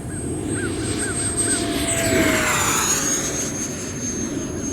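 An E-Flite Viper 70mm electric ducted fan model jet makes a high-speed pass, its steady rushing whine sweeping past with a pitch drop as it goes by, loud over the outdoor background, while a crow caws briefly.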